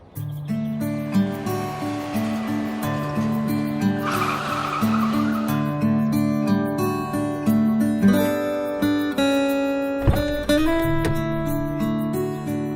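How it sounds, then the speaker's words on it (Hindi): A car engine revs and pulls away, rising in pitch as it drives off, heard as a sound effect laid over steady background music. "फिर आहान उस गाड़ी में बैठा और ड्राइव करते हुए निकल गया।"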